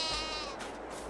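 A sheep in Farming Simulator 22 lets out a single loud, close bleat with a wavering, nasal tone.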